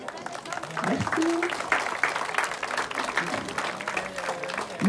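An outdoor audience at a harvest event in Badailhac claps for the harvest workers, a steady patter of applause from a modest crowd, with voices talking over it.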